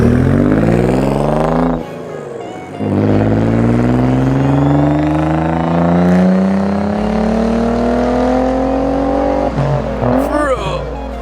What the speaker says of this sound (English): Dude, that's how the car should have sounded from the beginning.